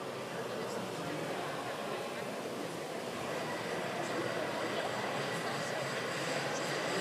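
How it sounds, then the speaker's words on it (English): Nitro engines on RC pulling tractors run at a tractor pull event, a dense continuous high-pitched buzzing drone at steady loudness, with voices in the background. "Oh, we got them all fired up now. We got the Nitro ready to go."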